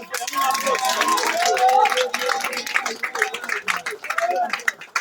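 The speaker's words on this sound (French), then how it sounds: "On nous applaudit pour ça." A crowd claps in dense, scattered applause at an election victory celebration, with voices calling out over it.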